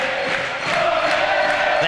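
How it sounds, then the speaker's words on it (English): Home crowd at the O'Brien Center roaring and cheering after a St. Mary's three-pointer in an NCAA tournament basketball game, a loud sustained wall of voices filling the arena. "That ignites the crowd here at the O'Brien Center."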